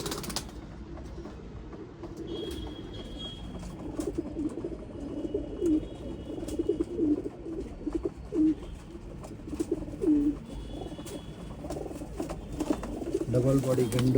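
Old line pigeons for sale in Bangalore coo softly in a repeating, throaty rhythm, close by, with people talking nearby.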